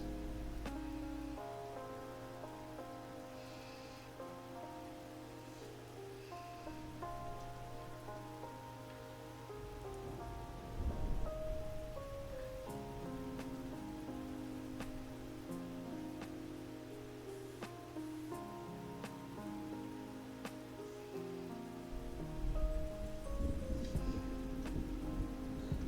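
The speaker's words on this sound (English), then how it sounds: "I hope you guys are enjoying the rain sound effects as much as I am." Steady rainfall pattering on a surface, continuous and even throughout with soft low rumble, no voices.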